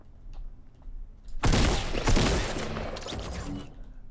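A shotgun blast in the video game Fortnite: one sudden loud burst with a broad, roaring tail that fades gradually over the next couple of seconds, following a quiet stretch.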